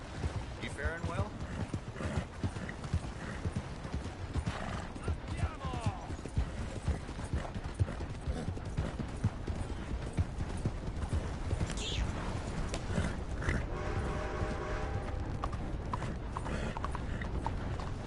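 A horse's hooves clip-clop steadily in Red Dead Redemption 2, a continuous rhythmic clatter with occasional snorts and a whinny, while characters talk over it.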